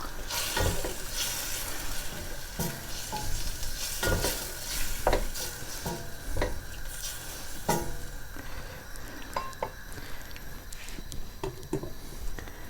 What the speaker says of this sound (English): So in go the chopped tomatoes, and I like to always give them a good stir as I add them as well.